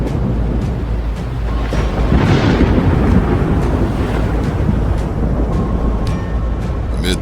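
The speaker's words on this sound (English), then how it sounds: "Storm and wind, and the raging waters battered the vessel, while Idunin, son of Verantis, rose" A storm at sea batters an elven ship, with a dense, constant roar of wind, rain and crashing waves and a deep rumble of thunder swelling in the middle, loud and enveloping.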